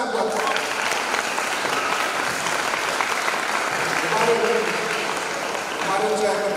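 An audience at a graduation ceremony for Quran memorizers claps in a thick, sustained burst of applause, with some voices and a few shouts mixed in as the clapping continues.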